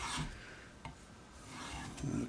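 A knife being convex sharpened, giving faint, soft rasping strokes that rise and fall in a few passes with a light tap between them, close but quiet, no voices.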